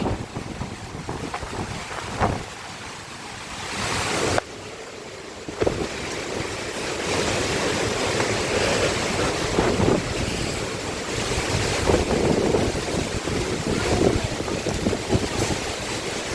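Strong monsoon and typhoon wind roars continuously with crashing surf beneath it on the coast at Nasugbu, loud and gusty, with a brief lull partway through before the blustery noise returns.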